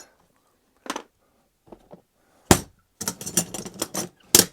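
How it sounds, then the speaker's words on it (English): A Stanley knife cutting through carpet during a bedroom wardrobe installation, heard as a few sharp, dry bursts of slicing and tearing, close and loud, separated by short pauses. "So what I'm going to now do is just cut this carpet away."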